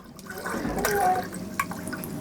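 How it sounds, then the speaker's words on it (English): Water from a foot pump, fed through an inline carbon filter, pours into a mug in a short, close trickle that lasts about two seconds. "what's a lot nicer is to use my foot pump. There it goes, look."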